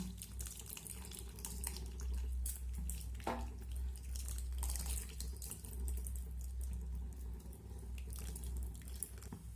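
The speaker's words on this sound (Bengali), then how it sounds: "এখন আমি এই তেঁতুলের কাতটা একটা ছাঁকনির সাহায্যে ছেঁকে এর মধ্যে দিয়ে দেব।" Tamarind pulp water poured through a strainer into simmering prawn curry, a steady splashing, running-water stream that carries on at an even level over a low hum, close by with no talk.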